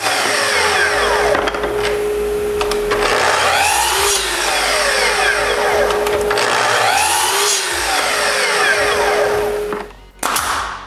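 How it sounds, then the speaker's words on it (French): A power saw rips plywood strips to width, the motor whining steadily while the blade bites through the wood in long passes, then winding down near the end. "je coupe des lisières de contreplaqué de la bonne largeur"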